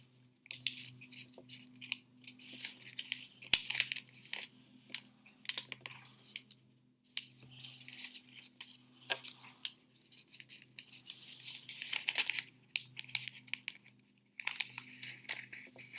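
Paper is folded and creased with soft, close crinkles and sharp swipes in scattered bursts, separated by quiet gaps and over a faint background hum.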